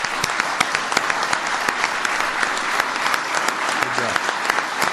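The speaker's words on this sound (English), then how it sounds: "So give them a big round of applause" A large audience applauds honored police officers at an awards ceremony, dense sustained clapping filling the hall at steady loudness throughout.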